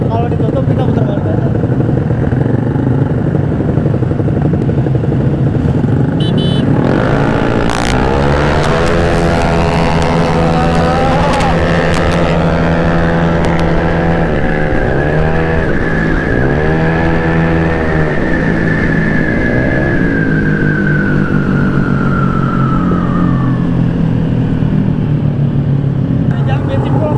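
Motor scooter engines rev hard on a public road during a street race between a Honda Vario and a Yamaha Aerox, rising and falling in pitch through repeated throttle bursts, loud and close, with people talking over them.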